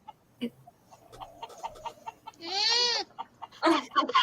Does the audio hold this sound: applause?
no